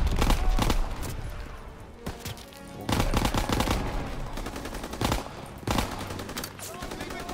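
Loud, dense automatic gunfire in the World War II shooter Call of Duty: WWII, with repeated bursts of rapid shots and battle noise filling the whole stretch.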